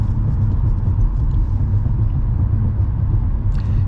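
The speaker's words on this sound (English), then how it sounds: "You can tell by the sound of the car" Steady low car engine rumble with road noise while driving at night, continuous and fairly loud throughout, no voices.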